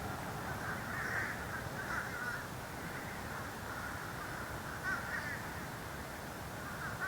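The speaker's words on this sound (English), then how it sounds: "There are crows just flying everywhere, just like Hitchcock's The Birds." Crows cawing as they fly around trees in Eustis, Florida, harsh calls in a few small clusters, fairly faint and distant over a steady outdoor wash.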